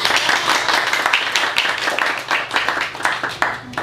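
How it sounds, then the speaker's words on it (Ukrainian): Steady applause from a crowd at a children's book presentation in Zhytomyr, dense overlapping claps filling the room without pause, fairly loud and close. "Я думаю, що ми повинні поаплодувати"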